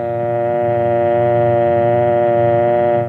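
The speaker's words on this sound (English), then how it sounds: "Then remove the receiver and listen for the dial tone." An old telephone dial tone plays from a vintage radio announcement, a single steady buzzing hum with strong even harmonics, held loud and unbroken for about three seconds before cutting off.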